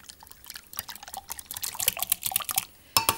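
A spoon stirs egg, milk and Worcester sauce together in a bowl for muffin batter, making quick, close, wet clinks and sloshes in an uneven rhythm, with a sharper knock at the end.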